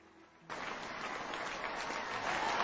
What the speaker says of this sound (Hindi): जोरदार ताली से वेलकम करें।